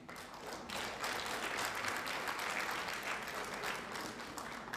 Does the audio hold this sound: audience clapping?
yes